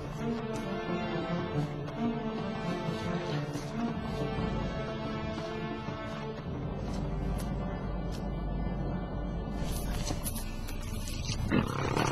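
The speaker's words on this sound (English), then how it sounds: "Hearing the lion's ominous warning and realizing that a charge is imminent" A wild lion roars a deep warning amid dense, busy background sound during a hunt, the growl steady and fairly loud across the stretch.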